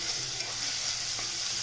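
Onions sizzle and hiss steadily in a hot pan while being stirred, a continuous close frying sound with no voices.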